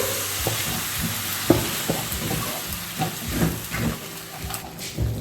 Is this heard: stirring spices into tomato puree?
yes